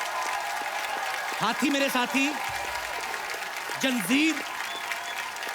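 A studio audience applauds steadily throughout while someone speaks over the clapping, the applause a constant bed of many hands under his voice.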